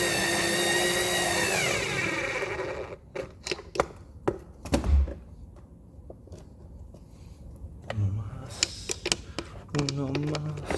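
A hand ratchet tightens truck bolts while a blank skateboard deck is being set up. Short bursts of sharp clicking come in uneven clusters, after a noisy stretch at the start.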